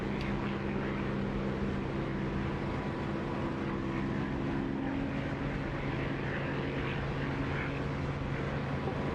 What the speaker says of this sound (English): I quite like the sound of this engine now, especially with the canopy open, flying around close to the ground.